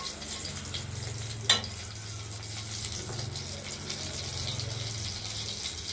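Black cumin seeds frying in hot oil in a home kitchen give a steady, even sizzle throughout, with a single sharp click partway through and no voices.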